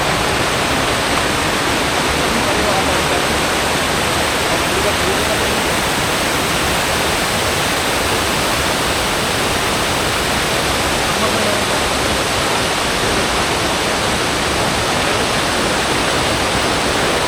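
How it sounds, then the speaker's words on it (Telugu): Pinjarakonda waterfall pouring in deep forest, a steady, dense broadband roar of falling water that holds unchanged throughout, loud and close with no breaks. "వెనకాల వాటర్ ఫాల్ చూడండి."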